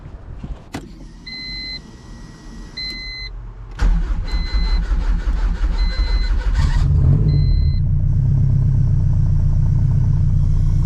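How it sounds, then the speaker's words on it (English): Turbocharged all-wheel-drive Honda CRX with an H2B engine, near and loud, with a couple of sharp clicks and chimes before the engine fires up and settles into a steady deep rumble. "That super deep rumble sounds freaking awesome."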